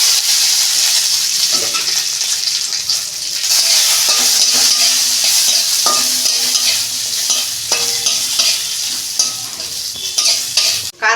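Whole cumin seeds and eight to ten cashews crackle in hot oil for a chana dal dish, producing a loud, steady close-range sizzle with occasional scraping and clinks of a spoon against the pan, with no speech.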